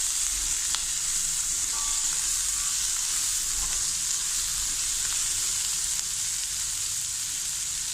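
Onions with salt stir-fry in a pan alongside okra and green chillies, a steady loud hiss of frying oil with faint occasional scrapes of stirring, no talk.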